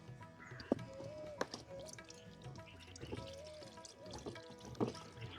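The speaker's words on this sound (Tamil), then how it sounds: "கொஞ்சம் தண்ணி ஊற்றுவோம் வேணும் அதிகமா." Water is poured over potatoes set to boil, a faint trickle and a few drips and splashes in a quiet kitchen.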